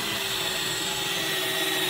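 A power drill runs continuously on a 1989 Vauxhall Vogue SE car body during bodywork restoration, a loud, steady whirring grind close by with no pauses or speech.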